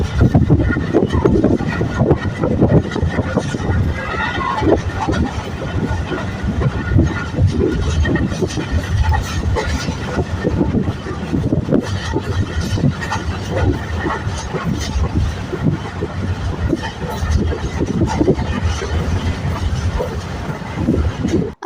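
A passenger train travelling from Karachi to Lahore rumbles along the tracks from inside a carriage, with continuous loud low roar and rattling clatter throughout.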